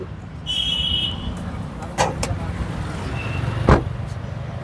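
Toyota Axio car idling at a used-car lot with a steady low engine rumble throughout, a few brief sharper knocks and a short high whine over it, as people talk nearby.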